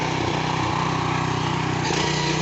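A 7 HP power tiller engine drives a rotavator through a papaya orchard, giving a steady, loud, close mechanical drone that holds throughout with slight dips in pitch.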